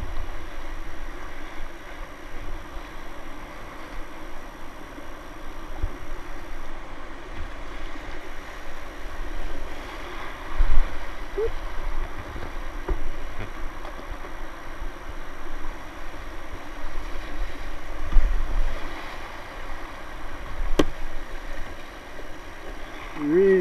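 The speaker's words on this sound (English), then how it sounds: "here we are, the rapids below the Central Water District Dam" River rapids below the Central Water District Dam on the 12 Mile River, a steady broad wash of rushing shallow water around rocks, continuous at moderate loudness with occasional louder swells and a voice speaking over it at times.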